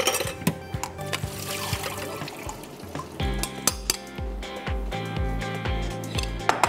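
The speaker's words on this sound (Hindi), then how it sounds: "एप्पल्स को पानी में डाला था तो पानी भी निकाल देते हैं।" Soaking water is poured off apples in a kitchen, a trickling, splashing flow broken by sharp knocks and clinks of a bowl or utensils against the sink.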